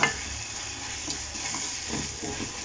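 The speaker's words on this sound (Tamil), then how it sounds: "லைட்டாக வதக்கி விட்டுக்கலாம். கூடவே டொமேட்டோ சாஸ் சேர்த்துக்கலாம். நல்லா கலரி விட்டுக்கலாம்." Tomato sauce mixture sautéed in a pan for a roadside mushroom masala, with a soft continuous sizzle and hiss and a few light scraping stirs, close and fairly quiet.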